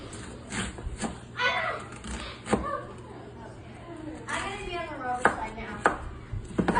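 A knife chops food on a board in quick, uneven bursts of sharp knocks, close and fairly loud, while people talk over the cutting.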